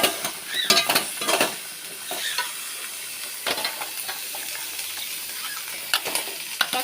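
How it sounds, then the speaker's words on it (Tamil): Tomatoes sizzle as they are sautéed in a pan for rasam, with a spoon scraping and clinking against the metal in irregular strokes over a soft background hiss. "தக்காளியும் அதில் போட்டு நல்லா வதக்கணும்."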